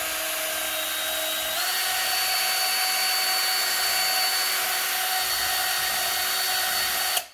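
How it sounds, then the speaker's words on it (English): A power drill mixing epoxy resin whirs loudly and steadily, stepping up slightly in pitch early on, running continuously before cutting off at the end. "I even like to reverse the drill and do it the other way."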